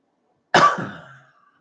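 One sharp, close cough bursting out of silence, then trailing off quickly.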